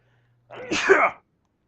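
A single close, sharp sneeze bursts out alone, lasting well under a second, with silence before and after.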